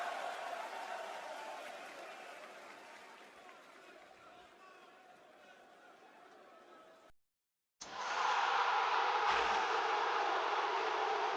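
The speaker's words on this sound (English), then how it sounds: "Listen at the crowd." Wrestling crowd at a WWE Raw event, a broad distant roar of cheering that fades gradually, cuts out briefly, then returns louder and sustained.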